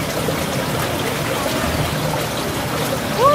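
A clear river in Zambales near a waterfall, a continuous rushing, trickling flow heard close and steady throughout.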